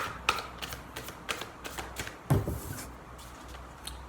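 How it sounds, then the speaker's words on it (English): A deck of cards being shuffled, a series of quick riffling bursts and soft taps with a louder clack partway through, close and otherwise quiet. "So I'm going to shuffle the cards."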